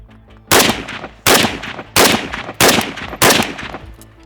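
An American-made SAK-21 AK-style rifle fitted with a suppressor fires five loud, sharp shots at a steady pace about 0.7 seconds apart, each with a short ringing tail, close by and without talk.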